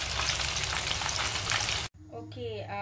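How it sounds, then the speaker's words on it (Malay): Three pieces of Spanish mackerel (tenggiri) fry in oil in a wok, a loud, dense, close sizzle that cuts off abruptly into a much quieter scene where a voice is briefly heard. "sekarang kita goreng batch kedua sebab tadi tak cukup tempat dalam kuali saya"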